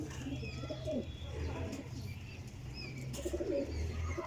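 Racing pigeons kept by a breeder give soft, repeated low coos in short bursts, close by, with faint chirps and a bit of wing movement in the background.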